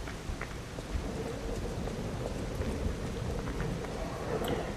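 Steady rain falls in the video game Lies of P, a dense constant hiss of drops with occasional faint taps and a low rumble underneath, even in level throughout.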